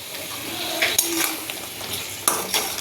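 Dried chepa shutki fish and flat beans are sautéed in a pan, with a soft background sizzle. Close metallic clinks and scrapes of a stirring utensil against the pan come in several sharp taps.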